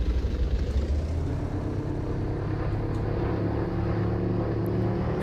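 A general aviation aircraft engine in X-Plane 12 running as the plane begins to taxi, a steady loud low drone with rumbling harmonics throughout and no talk.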